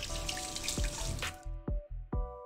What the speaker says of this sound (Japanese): ちゃんと手洗いしっかりしてから工場の中に入るっていうことで、この手洗いをちゃんとしましょうっていうことですね。